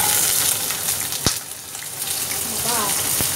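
Vegetables dropped into hot oil in a home kitchen set off a loud, close sizzle that crackles on steadily, with a brief splash near the start and no talk.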